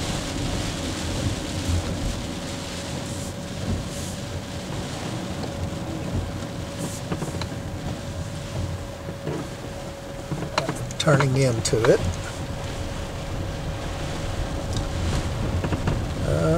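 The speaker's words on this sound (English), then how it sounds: "Raining pretty hard." Heavy rain and gusting wind outside a log cabin with a green metal roof, a steady broadband roar with wind buffeting the microphone throughout, and a voice speaking briefly near the end.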